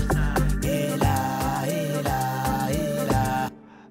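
A synthesized organ preset plays sustained chords over a punchy amapiano beat with thumping kicks and log-drum hits. It is loud and close, then cuts off abruptly near the end.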